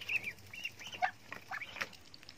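Ducks call in short, scattered quacks while waiting to be fed at breakfast time, a fairly faint and close cluster of nasal calls with no voices.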